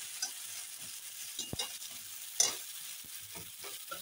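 Jackfruit curry with onion and garlic sautéing in a pan, a soft sizzle with scattered stirring scrapes and a couple of sharp utensil knocks, fairly quiet and close with no voices.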